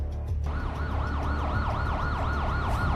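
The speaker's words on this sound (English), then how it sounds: "With sirens blaring behind them" A wailing emergency siren sweeps up and down in a fast, regular cycle, loud and fairly close, starting just after a brief low rumble and holding steady to the end.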